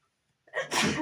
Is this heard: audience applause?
no